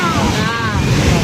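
Sea waves at Mypadu beach near Nellore wash in as a loud, continuous roar under heavy wind buffeting, with a voice speaking over the surf.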